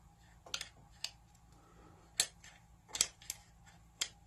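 Sharp, faint mechanical clicks from a Geissele 2-stage SSA-E trigger being installed in a PSA AR build, several isolated snaps spaced irregularly over a quiet background.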